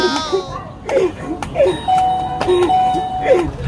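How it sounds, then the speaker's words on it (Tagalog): A doorbell chimes over and over in quick succession, loud and close, with a voice talking briefly at the start. "huwag mong paglaruan yung doorbell namin"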